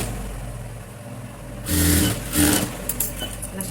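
A sewing machine stitches the princess-cut back of a frock, its motor whirring up in two short close bursts after a low background hum.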